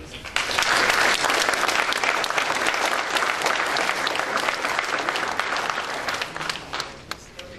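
Applause at a FIDE General Assembly welcoming three new member federations, a sustained room-wide clapping from a seated crowd that begins abruptly and slowly tapers off after several seconds.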